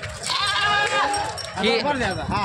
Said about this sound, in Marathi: या अशा म्हशी सोलापूरच्या बाजारात आलेले आहेत.